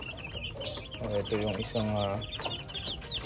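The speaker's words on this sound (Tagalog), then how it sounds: "Meron pa pala siyang inahin dito na sweater. Saka meron din pala siyang sisiw." Sweater breed hen with chicks in a backyard breeding pen, clucking in a few drawn-out, rising calls mixed with high peeps from the chicks, close by, with someone speaking briefly over them.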